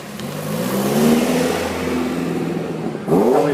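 A TVR Cerbera 4.5 sports car at a car show drive-in convoy revs close by, its engine note rising and falling before a sharp fresh rev near the end.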